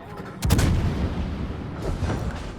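Naval guns of the French tier-6 cruiser De Grasse fire in World of Warships, a sharp booming salvo followed by a rumbling tail and a second softer report.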